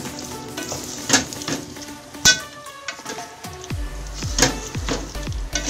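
Two large chopped tomatoes fry with spices in a pan for Hyderabadi beef tahari: a loud, continuous sizzle with wet bubbling and intermittent stirring scrapes.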